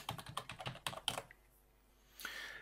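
A password being typed on a computer keyboard, heard as a quick, close run of about a dozen clicking keystrokes, then a pause and a soft rise of background noise.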